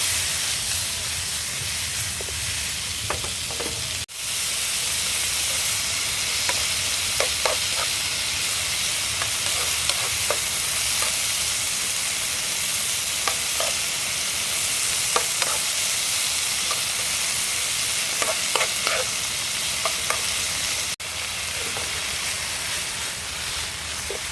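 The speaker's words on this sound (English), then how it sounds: "The beef's already browning, so just cut it nice and thin. The onions are caramelising." Thin-sliced beef and onions fry for a cheesesteak on an outdoor griddle, with a loud, continuous sizzle and hiss and a run of sharp spatula clicks and taps throughout.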